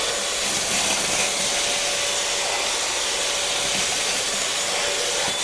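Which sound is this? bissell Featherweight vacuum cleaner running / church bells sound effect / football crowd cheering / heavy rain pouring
bissell Featherweight vacuum cleaner running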